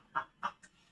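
Chickens clucking nearby, three short distinct calls in quick succession, the last one fainter, in a quiet setting.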